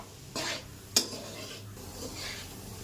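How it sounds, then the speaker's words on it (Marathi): A spoon scrapes and stirs a thick coconut burfi mixture in a pan, with a few soft scraping strokes and one sharp clink against the metal, fairly quiet and close. "ते आता हे पूर्ण एक जीव होईपर्यंत त्याला मिक्स करून घ्यायचं"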